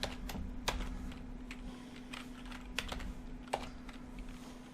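Steady typing on a computer keyboard, a run of soft clicking keystrokes with a few sharper key hits, close and alone over a low constant hum.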